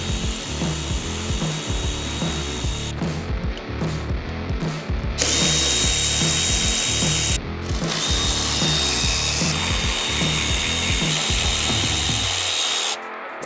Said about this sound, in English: 1/4 inch ratchet